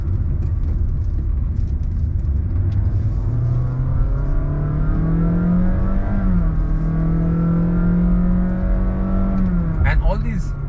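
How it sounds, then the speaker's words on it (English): A Honda City e:HEV hybrid's engine drones loudly and steadily inside the cabin, revs rising and falling as the car climbs through corners, with a voice talking briefly near the end. "But you think that the car is laboring up these corners."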